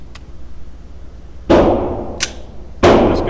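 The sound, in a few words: Sig P322 pistol being fired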